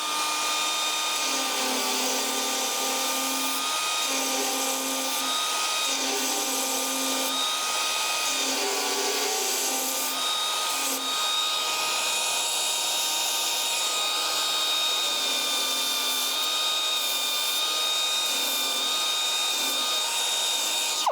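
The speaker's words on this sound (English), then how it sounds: "show us how the Dynafile 2 works when it's in action here. Great, we got actually a pretty big weld right here that I'm gonna work on." A Dynafile 2 belt sander grinds down a large weld on a car door, a steady high-pitched whine running close and loud throughout with slight shifts in pitch as it bears on the metal.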